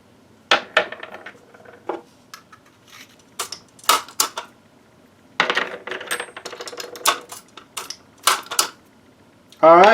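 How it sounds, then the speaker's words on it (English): Brass primers pressed one at a time into 7.62x54R rifle cases on a reloading bench, giving a series of sharp metallic clicks and clinks in irregular bursts, close and fairly loud, with no speech. "Alright, just finishing up primers."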